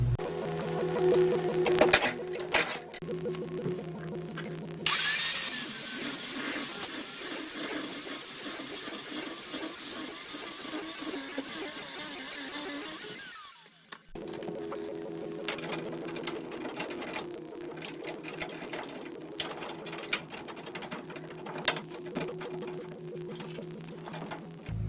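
A power tool cuts through a steel door hinge plate on a G-Body car, a loud, sustained high-pitched grinding whine of about eight seconds between bursts of quieter mechanical clatter and clicks.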